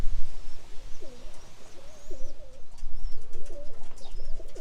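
Pigeons cooing steadily in soft, repeated low phrases over constant wind noise in an outdoor loft area, with faint higher chirps from other birds.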